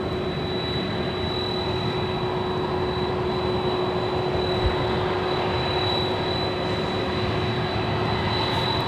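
A Delta Airlines Boeing 767-400ER jet on flight 553 bound for JFK at LAX, its engines producing a broad, steady roar with a constant tonal whine, loud and unbroken for the whole stretch, with no voices.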